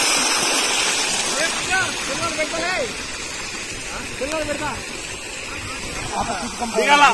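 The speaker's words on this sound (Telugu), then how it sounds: "చూడండి భారీగా వస్తున్నాయి నీళ్ళు" Heavy floodwater from torrential rain in Hindupur rushes over the Sri Rangarajupalli bridge, a steady broad roar running beneath someone talking throughout.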